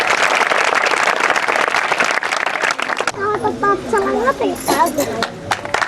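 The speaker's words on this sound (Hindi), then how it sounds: "ताली जोर से बजाना है।" An audience at a church Christmas meeting claps loudly in dense, sustained applause for about three seconds, then someone speaks over fading scattered claps.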